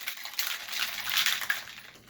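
Ice rattling and clinking inside a cocktail shaker during a quick shake while mixing a cranberry martini, a soft, brief burst of chattering cubes, fairly faint.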